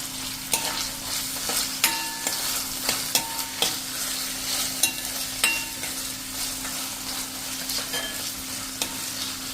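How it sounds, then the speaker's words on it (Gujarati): Green peas go into a frying pan of cooking sabji and get stirred, a soft steady sizzle broken by repeated sharp clicks of a spoon against the pan. "હવે આમાં આપણે આ જે અડધો કપ આપણે વટાણા લીધા છે ને એ પણ આપણે આમાં નાખી દેશું."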